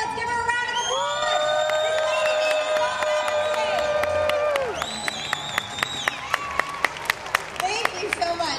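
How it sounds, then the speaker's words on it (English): A crowd at the Hawaii Tax Day Tea Party cheers and whoops loudly at first, then breaks into scattered clapping that grows denser toward the end. "let's give her a round of applause"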